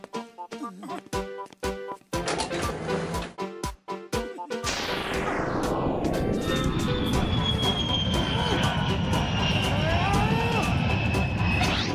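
Cartoon train approaching on a railway track toward a broken bridge: sharp clacks and brief silences give way to a rising, sweeping roar and a loud, sustained rumble with high squealing wheels and a horn.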